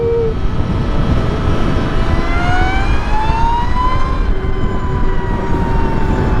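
Electric motor whine from an Energica EVA EsseEsse9 motorcycle while riding, rising tonal lines sweeping up in pitch over steady loud wind and road rumble, then leveling and dropping as speed changes.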